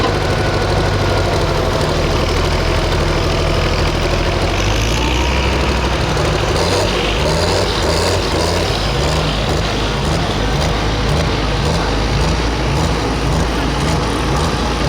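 A farm stock pulling tractor at a fall tractor pull in Tipton runs at wide-open throttle, producing a loud, close, sustained roar with a pulsing low rumble that continues throughout.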